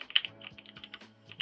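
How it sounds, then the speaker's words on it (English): Someone types a DiskPart command on a computer keyboard, a quick run of close, crisp keystrokes clicking at an irregular pace. "You just type in create partition"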